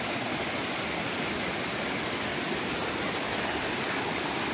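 Dense, steady roar of a waterfall near Rishikesh, close and loud, a constant broadband rush of falling water with no other sounds.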